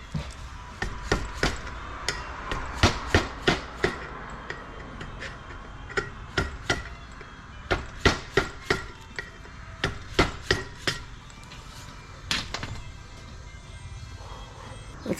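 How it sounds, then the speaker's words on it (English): A scraper chipping big chunks of aluminum off a Jetaway Hydra-Matic transmission part in a fast series of sharp metallic clicks and taps, irregular and close, with no talk. "little by little, chipping away"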